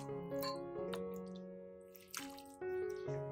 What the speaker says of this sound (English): I place the cilantro, dill, and mint into the water one type at a time.